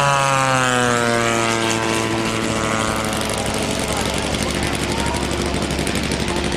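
A P-47 Thunderbolt's radial piston engine roars in the FSA Airplanes of the World 2008 flight simulator, loud and close with a steady throbbing drone and layered harmonics that shift in pitch early on, then hold constant throughout.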